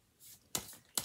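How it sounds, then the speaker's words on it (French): A deck of healing oracle cards being handled: a soft rustle followed by two crisp, quick card flicks or snaps, faint and close. "Je vais prendre une carte des forces de guérison"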